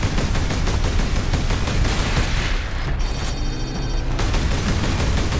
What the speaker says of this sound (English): I'm just gonna stand here and shoot at you through a wall.